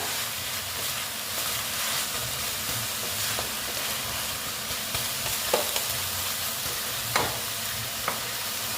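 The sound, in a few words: red amaranth greens cooking in a pan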